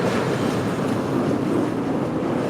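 A train passing through a city, a steady, loud broadband rumble with faint rhythmic clatter of wheels on rails, continuous throughout and close by, with no talking.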